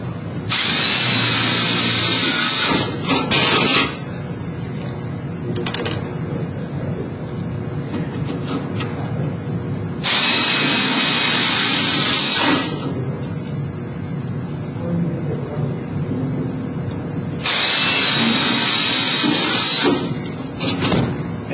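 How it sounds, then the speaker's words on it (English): A power drill drives screws into a sheet-metal duct end cap, with three loud, close bursts of whirring, each lasting about two to three seconds and separated by quieter handling noise. "I'm just going to put 2 screws on opposite sides."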